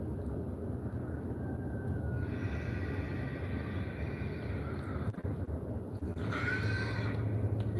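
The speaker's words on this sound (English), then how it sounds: "That's the next door neighbor's horse." A neighbor's horse whinnies loudly twice nearby, each neigh a long, wavering call over a steady low background rumble, with no one speaking.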